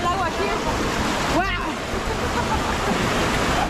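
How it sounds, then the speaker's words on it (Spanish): A rising river in flood in El Salvador rushes with a strong, steady current, a loud, broad roar that runs throughout, while a voice briefly calls out over the water. "¡Se está viniendo más el agua aquí!"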